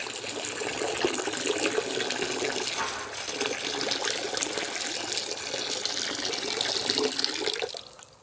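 Bourbon whiskey mash is poured from a height into a container to oxygenate it before the yeast is pitched, making a continuous loud splashing gush that stops abruptly at the end.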